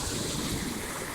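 Ocean surf breaks on the coast, a dense continuous roar of foaming waves mixed with wind rumble, steady and fairly loud for about a second, with no talking.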